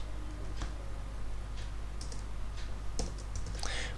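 Someone types code on a computer keyboard, producing sparse, quiet, close key clicks scattered irregularly over a steady low background hum.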